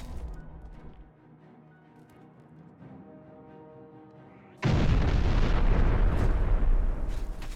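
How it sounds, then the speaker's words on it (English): A holy hand grenade detonates in modded Oblivion: several seconds of quieter game sounds, then a sudden loud, broad blast that keeps roaring and rumbling to the end. "I want to try this this holy hand grenade."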